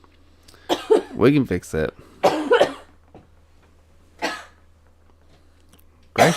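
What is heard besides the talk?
coughing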